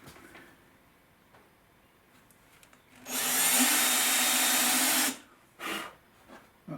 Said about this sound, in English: once again we want to countersink.